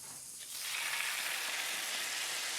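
Panettone French toast soaked in custard hitting a hot pan: a loud, steady hiss that rises within the first half second and then holds as a dense, close sizzle, with no talking.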